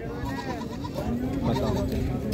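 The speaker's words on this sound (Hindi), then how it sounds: "देखिएगा कितनी भीड़ है बकरे बकरियों की।" A crowd of goats bleats continuously at a busy livestock market in Dabheri. Overlapping cries from many animals, close and loud, form a dense, noisy chorus.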